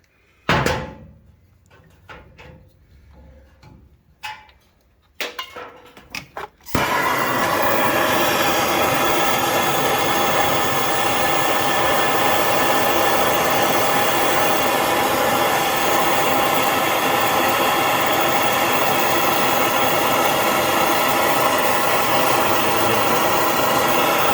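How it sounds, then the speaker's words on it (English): A MAP gas torch burns with a loud, steady roar while heating the steering shaft of a Craftsman riding mower in a tight space, after several seconds of clicks and handling knocks. "So the MAP gas works real well."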